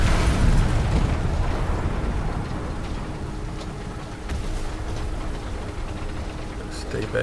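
Artillery shell explosions in the War Thunder tank game, a heavy rumbling blast up front that fades into sustained low booming and engine noise, with a voice talking over it.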